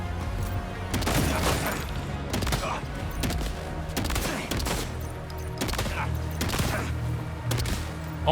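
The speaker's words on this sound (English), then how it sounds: "Oh my god, how many shots do you take?" Rapid bursts of gunfire from Death Stranding 2 erupt in repeated volleys over roughly eight seconds, loud and dense, with heavy booming impacts between them.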